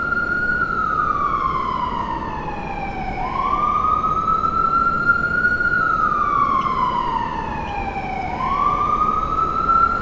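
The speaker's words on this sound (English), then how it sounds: "This ambulance is going to be stuck for a while." An ambulance siren wails, rising and falling in long slow sweeps, loud and steady over a constant rumble of Manhattan city traffic.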